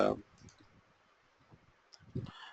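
A computer mouse click at the start and another near the end, sharp and close, with quiet talk in between.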